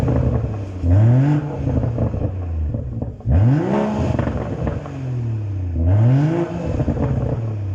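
BMW M140i with modified exhaust, set to Sport Plus, revving hard three times in succession, each rise climbing sharply then dropping back to idle; loud and close, no talk.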